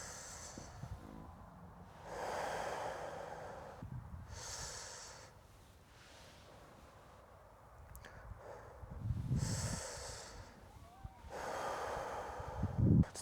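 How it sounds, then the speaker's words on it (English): Slow deep breaths in and out during a gentle qigong fire and water balancing routine, each long inhale and exhale audible as soft airy rushes, some with a snort-like nasal edge, close and quiet. "Breathing in. Wrap the belly, exhale."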